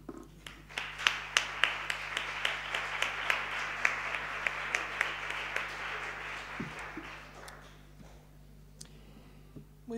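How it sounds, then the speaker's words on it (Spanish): A lecture audience claps to welcome a speaker, a soft, fairly distant patter with a few sharper claps standing out, fading out toward the end. "doy las gracias a Lidia, la recibimos con un aplauso."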